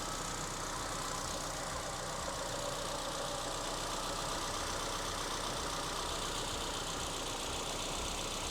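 A 2001 Nissan Silvia S15 Spec S idles steadily on a cold start, heard close from the engine bay as a constant, even hum and whir with no stumbles, alone and without talk.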